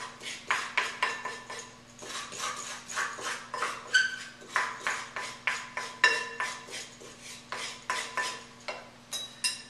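Coated apple pieces spread into a 9 by 13 baking pan with a metal utensil, a steady run of soft clinks and scrapes repeating in quick uneven strokes, close and fairly quiet, with a faint background hum.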